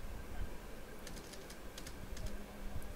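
Keystrokes on a computer keyboard while entering data in Tally accounting software, quick irregular clicks in short bursts over a steady low background hum, close and moderately quiet.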